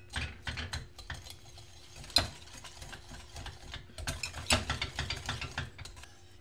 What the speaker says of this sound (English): I'm going to whisk 4 egg yolks and 1/3 cup of sugar.